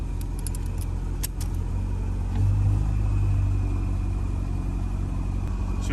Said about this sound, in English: Choke is off right now and it's running.